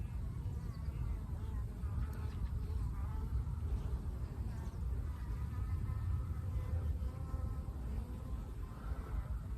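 Honeybees buzz steadily around a beehive in an apiary, a dense continuous hum with no pauses, close and fairly loud throughout.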